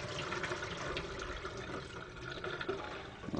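Steady rushing water running and gurgling, very mildly basic water draining away down a sink, continuous and fairly close throughout.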